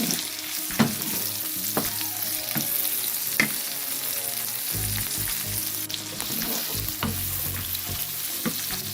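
Strips of three kinds of capsicum fry in a pan, giving a steady, close sizzle with scattered clicks and scrapes of stirring throughout.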